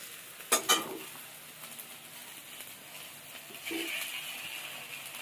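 Mashed potato drops into fried onions and chillies in a pan, two sharp clatters up front, then faint sizzling and quiet scraping of the spoon as it is mixed in, with no talk.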